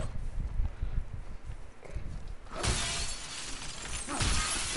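Glass smashes loudly in The Last of Us Part II, a sudden bright burst of shattering fragments after a quieter stretch of footsteps and movement, with debris tinkling on afterward.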